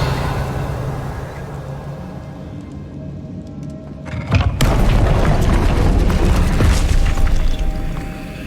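Incendio fire spell cast in Hogwarts Legacy: after a few seconds of low game ambience, a sudden loud fiery burst erupts and roars on steadily for about four seconds.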